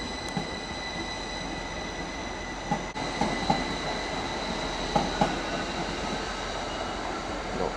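A Northern Class 333 train pulls out of Leeds station with a steady, close rolling rumble, punctuated by several sharp wheel squeals and clicks along the rails. No one speaks.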